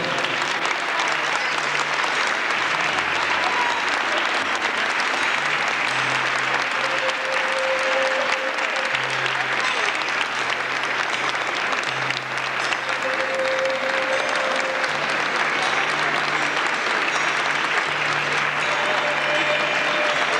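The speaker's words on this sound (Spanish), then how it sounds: "Nuestro aplauso para recibir al coro de niños Santísima Virgen Niña" Concert hall audience at a 2002 choral festival applauding to welcome a children's choir, a long, even, dense roar of clapping that holds at full strength throughout, with faint low hum beneath.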